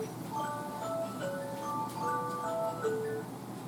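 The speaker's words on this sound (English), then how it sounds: "There goes my alarm." An electronic kitchen alarm chimes a repeating pattern of clear melodic tones, steady and moderately loud, with no talking.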